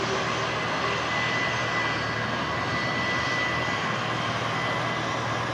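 An aircraft engine roaring during takeoff, a loud, dense, steady broadband drone that holds at constant strength throughout.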